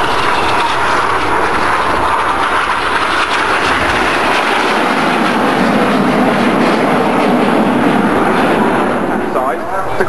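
Red Arrows display jets roar past at the Bournemouth Air Festival, a loud, sustained broadband jet rumble that fills the whole stretch, with a commentator talking over it.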